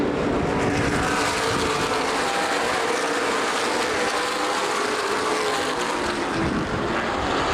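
ARCA/CRA Super Series stock cars race at Anderson Speedway, a dense, continuous engine roar filling the air at high volume with no clear gaps or voices.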